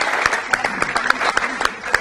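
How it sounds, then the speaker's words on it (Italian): Audience applause at a biancorossa club victory celebration broadcast, a steady wash of clapping with sharp individual claps standing out, fairly close and continuous throughout. "Un applauso per Benedetto,"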